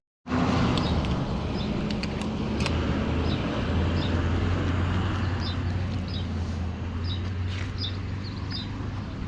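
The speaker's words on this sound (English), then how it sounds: "Do you care if I pull my car up?" A car pulls up close by with a steady low engine rumble that grows and holds for several seconds, with faint outdoor chirps in the background.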